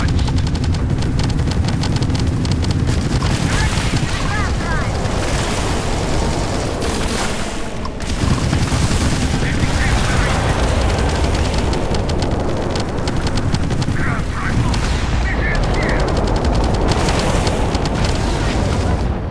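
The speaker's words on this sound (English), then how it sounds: "wait till these turrets start firing" Battle cruiser turrets on a modded Class C ship in the space game Starfield fire in a dense, continuous barrage of loud booming blasts and rapid gunfire-like bursts, with a short lull midway before the heavy firing resumes.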